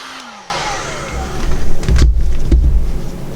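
A heat tool is warming fresh resin coasters. A sudden loud blowing hiss switches on and holds steady with a deep rumbling undertone, close up and alone.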